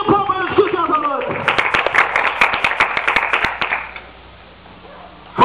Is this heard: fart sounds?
no